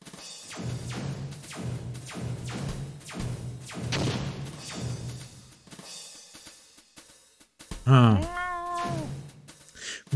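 A cartoon cat in the Space Quest adventure game meows loudly with rising and falling wails near the end, following a run of rhythmic thumps; a voice talks over parts of it.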